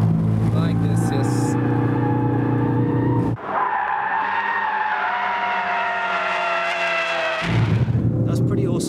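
A Ford Focus RS in drift mode roars loudly with a sustained high-revving engine note and squealing tires as it slides, the pitch shifting through the slide, with occasional voices over it.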